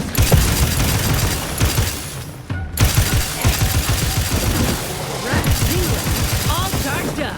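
Bursts of gunfire in the video game Outer Worlds 2, rapid clattering shots with a brief gap near the middle, mixed with mechanical clanks and distorted voices speaking in the background.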